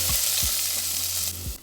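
Mashed garlic frying in oil in a pot, making a loud steady sizzle with a few short scraping stirs, with no voices.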